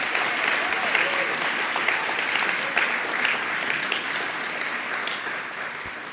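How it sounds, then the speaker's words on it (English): Audience at an education awards ceremony applauding the award winners, a full round of steady clapping from a large room that holds even and fades slightly toward the end. "if we can just have another round of applause for all the award winners this morning"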